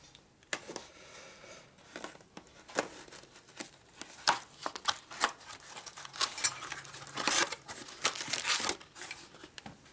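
Sheets of paper crumpled and handled in a garage workshop during a Harley-Davidson Shovelhead motor rebuild, giving a run of sharp, irregular crinkles and rustles at close range with no talk.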